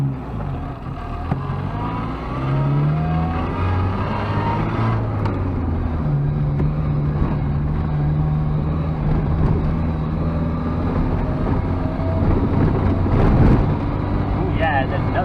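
A small hatchback engine on a Mongol Rally road trip revs and pulls hard through a low, steady drone with rising harmonic sweeps, heard from inside the cabin amid road and wind rumble.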